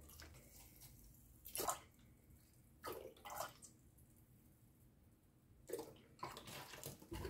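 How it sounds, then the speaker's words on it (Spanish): Cleaning vinegar pours in short bursts into a glass, with splashing gushes separated by quiet pauses. "Y ahora vamos a rellenar este vaso de vinagre"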